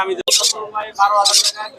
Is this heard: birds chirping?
yes